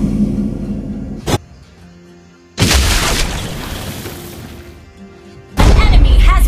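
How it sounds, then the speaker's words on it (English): A turret being destroyed in the Mobile Legends video game, heard as heavy booming blasts with crashing bursts, one short hit followed by two long loud explosive surges amid game sound effects. "turret has been destroyed."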